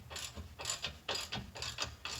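A ratchet clicks in quick repeated bursts while tightening a nut on a vehicle leveling kit near the upper control arm, each stroke a short sharp pawl rattle, close and clear.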